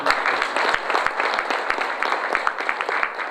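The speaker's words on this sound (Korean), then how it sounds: "여러분 박수 한번 보내주세요" An audience at a Gongju city ceremony declaring the 2017 book of the year applauds. Scattered claps blend into a continuous crowd patter at moderate loudness.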